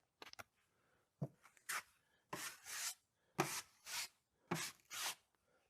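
Drywall mud is spread and feathered across a wall with a knife: a few quick scrapes, then several longer, steady rasping strokes with short pauses between them, close and fairly quiet.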